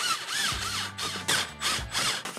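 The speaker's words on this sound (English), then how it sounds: "To do so, we're gonna use a T20 Torx bit." Power driver with a T20 Torx bit backing out screws to remove a windshield visor, a few short whirring bursts with ratcheting clicks in between, close and fairly loud, with no talking.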